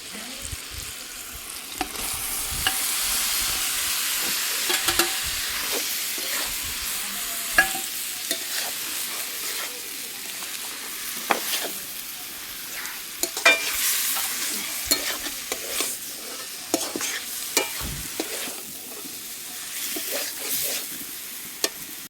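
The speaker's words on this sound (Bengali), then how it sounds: "মশলাগুলো কষে গিয়েছে, এবার আমি শাকটা দিয়ে দেবো" Kulekhara greens are stir-fried in spice masala in a pan, with a continuous loud frying sizzle and repeated sharp scrapes and knocks of the spatula, no voices.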